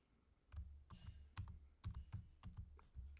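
Keystrokes on a computer keyboard while Java code is typed, coming in irregular clusters of clicks and thumps, close and moderately loud, with no talking.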